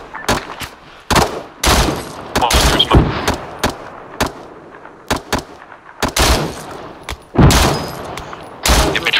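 Machine gun fire in the military video game Arma 3, loud irregular bursts and single sharp shots spread across the stretch, some close and booming, with short quiet gaps between volleys.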